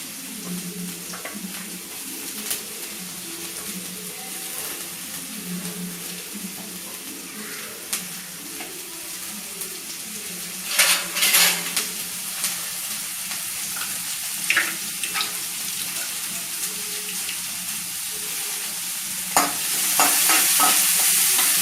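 Chopped onions and curry leaves fry in a pan for a Bombay chutney, a steady soft sizzle with occasional stirring scrapes and clinks, close and without talk.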